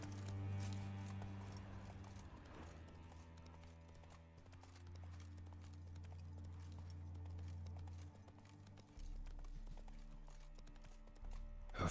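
Hoofbeats of the horse Roach galloping in the video game Witcher 3, a steady rapid clip-clop running throughout over low game music, loud and close with no talk.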